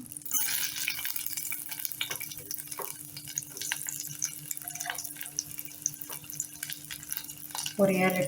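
Chopped onions sizzle in a pan, a low, continuous frying hiss with scattered spatula scrapes and small knocks, and a louder clatter at the end.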